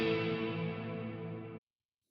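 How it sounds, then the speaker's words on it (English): An electric guitar chord rings through a Nano Cortex 2.0 set to a cave reverb, a big booming wash that sustains evenly for about a second and a half before being cut off abruptly. "You've got a cave, which is kind of the opposite. It's a big booming kind of reverb."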